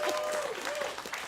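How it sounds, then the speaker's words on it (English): Live show audience applauding steadily, a dense wash of clapping with a faint tonal line running underneath, sustained for the whole short stretch. "Let's give one more round of applause"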